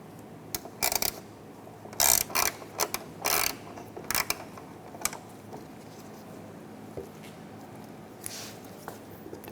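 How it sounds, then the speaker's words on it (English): Phillips screws are backed out of the high-mount third brake light on the rear tailgate of a 2014-2019 Toyota Highlander, giving scattered short ratcheting clicks and mechanical ticks in bursts, with quiet gaps between them. "Using a Phillips head screwdriver or Phillips head bit and a driver, take out the two screws"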